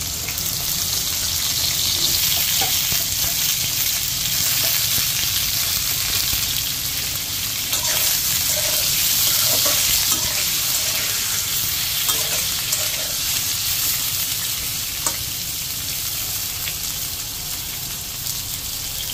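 Loud, continuous sizzling of pointed gourd frying in hot oil, steady throughout with faint stirring scrapes and no voices.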